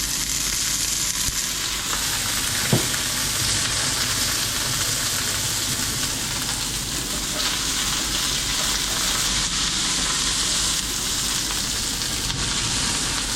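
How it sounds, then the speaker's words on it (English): Asparagus frying in oil in a pan, a steady, dense sizzle that holds evenly throughout, with one brief sharp pop partway through and no voices over it. "That asparagus is just starting to blister now, so we'll add the oil"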